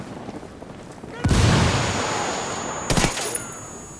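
A grenade blast and a burst of gunfire in the video game Ghost Recon Wildlands, two loud close bangs with long rumbling tails, the second shorter, over faint background noise.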